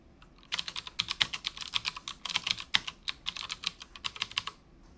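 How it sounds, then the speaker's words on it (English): Rapid, uneven keystrokes on a computer keyboard as a project description is typed, a steady run of close, crisp clicks for several seconds with no talk. "Type in a project description."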